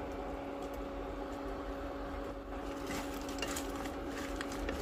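Crispy fried vegan banana-blossom pieces, made to resemble small fried fish, are tossed and stirred in a pan, giving a steady rustling scrape with faint light clatter at close range.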